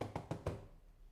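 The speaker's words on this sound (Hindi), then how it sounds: "फाखिर, दरवाजा तो खोलो।" Three quick knocks on a door, evenly spaced and fairly close, followed by quiet room tone.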